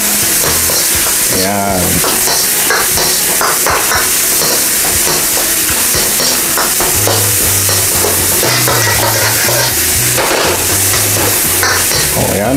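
Shrimp and egg noodles are stir-fried in a pan. A loud, continuous sizzle runs throughout, with the scrape and clatter of stirring, and someone speaks briefly over the cooking.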